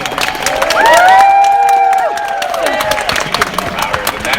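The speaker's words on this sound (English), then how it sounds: "Do you guys want to start giving a big round of applause for Max and Toby?" Crowd applause and cheering at an indoor fan convention gathering, a sustained swell of clapping and shouts with mixed voices and talk across the room.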